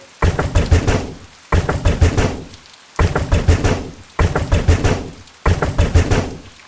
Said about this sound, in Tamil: முன்னாடி இப்படிதான் ஏதோ கதவு தட்டுற சத்தம் கேட்டுச்சு